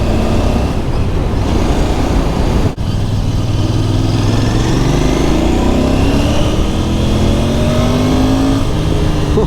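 A Royal Enfield Bear 650 motorcycle engine revs hard and close, loud and continuous, with rising and falling pitch as the throttle is twisted, a brief dip near three seconds, then climbing again toward the end.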